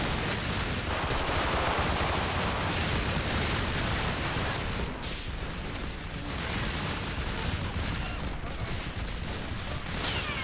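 Dense, sustained gunfire crackles without pause from massed rifles and machine guns in a Combat Mission: Battle for Normandy WWII battle, a loud continuous fusillade with deep rumbling bursts throughout.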